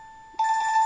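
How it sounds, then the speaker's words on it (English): A mini doorbell gives off a telephone-like electronic ring, a steady buzzing trill that starts abruptly after a brief faint tone, close and clear with no voices. "Oh, it's like a telephone."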